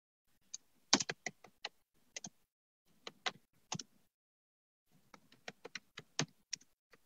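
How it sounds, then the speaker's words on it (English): Keys on a computer keyboard are tapped in short, quiet bursts of clicks with brief pauses between, close and clear in an otherwise silent room. "I type in the text box some texts"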